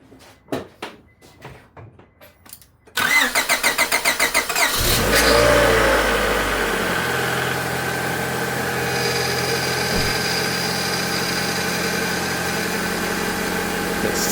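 A Honda F23A1 car engine, newly rebuilt after pushing oil into the coolant, cranks briefly and catches, flares with a loud rev, then drops to a steady, even idle close by. Quieter handling noises come before the start.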